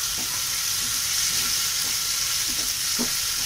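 Garlic and finely chopped tomato fry in a pan with a steady close sizzle, broken by a few soft taps and scrapes of stirring.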